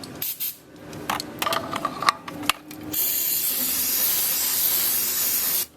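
Aerosol cleaner sprayed into a car's throttle body, a 272 engine: a few clicks and short bursts first, then one long steady hiss lasting about three seconds, close and loud.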